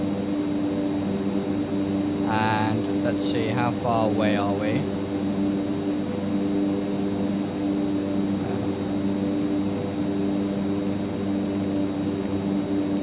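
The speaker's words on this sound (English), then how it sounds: "The turboprops just sound so good." Turboprop engines of an aircraft in X-Plane 12 drone steadily with layered tonal hums throughout, a constant loud cabin roar while someone talks briefly over it early on.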